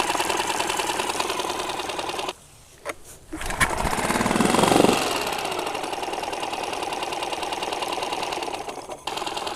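A Mercury/Tohatsu 4-stroke outboard motor of 4 to 6 horsepower idles after a carburetor cleaning with a steady, rapid mechanical chatter, close up, briefly dipping and stumbling before settling back into its even rhythm.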